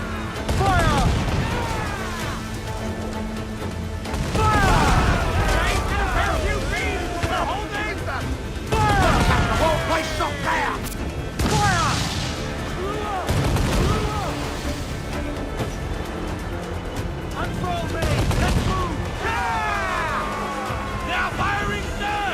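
Ship cannons fire broadsides in the pirate video game Assassin's Creed IV Black Flag, heavy booms rolling in repeated loud waves with crashing impacts, while crew voices shout over the battle.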